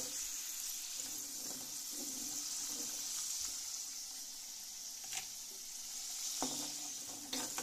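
Onions fry in a pan for a fish head curry, a steady close sizzle running throughout with occasional soft clinks and scrapes of a spoon stirring.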